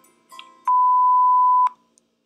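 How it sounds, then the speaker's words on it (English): A voicemail tone sounds as a single clean, steady electronic beep lasting about a second. It is loud and close, with faint clicks just before and after. "if you leave a message after the tone, I'll get back to you as soon as I can"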